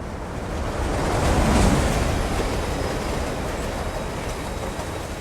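Ocean waves in the opening of a TV show, a steady broadband wash of surf that swells early and then holds as a continuous roar, loud and with no voices.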